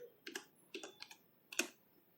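Someone types the word "motar" on a computer keyboard in Microsoft Word: a few quiet, close key clicks in small bursts, with short gaps between them and no talk.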